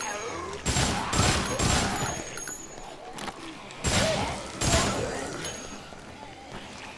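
Dead Rising machine gun fire in bursts, two clusters of rapid loud shots separated by a short pause, with thuds and game ambience between them.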